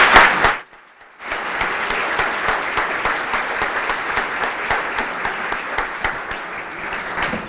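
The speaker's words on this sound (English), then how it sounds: "For them, let's give them a round of applause." A breakfast fundraiser audience applauds its sponsors, steady dense clapping filling the room for several seconds after a brief sharp burst and short pause at the start.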